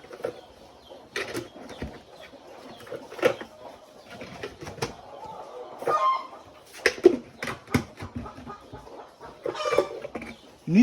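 Young chicks drinking vaccine water, cheeping and clucking in soft scattered bursts at close range over quiet background noise.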